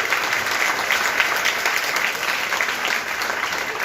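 Steady applause from an audience at an event honouring a guest, a dense continuous clapping that holds evenly for a few seconds with no talk over it.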